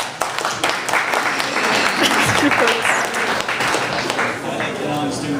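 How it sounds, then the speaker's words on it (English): A student government audience breaks into steady, dense applause that holds for several seconds, with voices and cheers mixed into the crowd noise. "I think you all deserve a round of applause"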